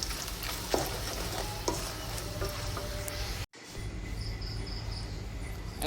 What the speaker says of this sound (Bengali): এখন অ্যাড করছি শুকনো মরিচ এবং কিছু তেজপাতা।